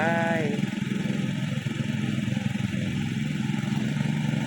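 A boat engine starts with a brief high whine and then runs at a steady low rumble near the shore, while people talk over it.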